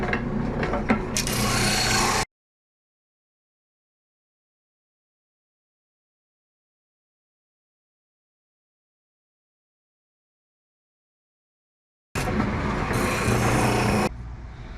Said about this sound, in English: have the sander set up here